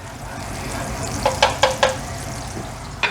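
Butter and olive oil heating in a saute pan, a low steady sizzle with several sharp clanks of a utensil or pan in a quick cluster, then one more.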